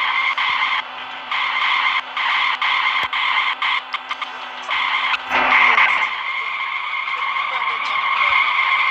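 A car drives in the video game Ice Scream: a steady, buzzy engine tone cuts in and out in short bursts, then a rougher skid-like burst near the middle before the engine drones on evenly.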